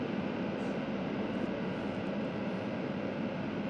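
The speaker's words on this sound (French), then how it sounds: "je vais demander décollage d'un avion" An AI-generated airplane takeoff: a steady, dense roar of jet engine noise, constant and fairly loud throughout, with no distinct peaks.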